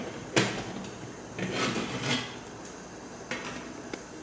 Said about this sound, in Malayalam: ഇനി ഇതിനെ ഞാൻ ഇഡ്ഡലി ചെമ്പിൽ നിന്ന് മാറ്റുകയാണ്.